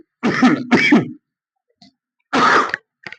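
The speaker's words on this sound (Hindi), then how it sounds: "पढ़ाते समय खांसी आती है" A teacher coughs and clears his throat during a lesson, with two harsh, close bursts in quick succession, a pause, then a third rough cough and a faint trailing sound.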